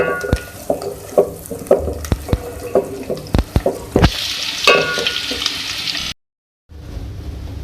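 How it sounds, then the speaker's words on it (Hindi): Onions frying in oil for a Pakistani cabbage and beef curry: crackling sizzle broken by sharp stirring clatters and scrapes, a burst of hissing near the end, then a brief cut and renewed sizzle, close up with no talk. "सबसे पहले हम ऑयल में ऐड करेंगे प्याज। इसको हम फ्राई कर लेंगे।"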